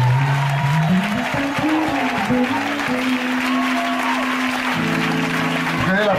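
A church congregation applauds and cheers a healing testimony, dense continuous clapping filling the room while a voice speaks loudly over it throughout.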